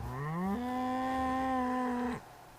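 Cattle in the video game Towncraft give a single long, loud moo that rises in pitch and then holds steady before cutting off abruptly, heard alone and up close.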